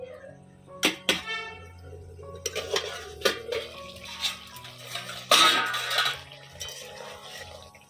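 A metal lid clanks as it is lifted off a cooking pan of okra, with sharp metallic knocks and a brief burst of hissing steam and clatter, close by.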